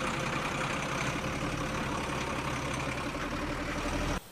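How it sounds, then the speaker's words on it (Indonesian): Truck engine idling in an animated scene, a steady low rumble held for a few seconds before it cuts away abruptly. "Lain pangdeng urang mah suara mobilnya."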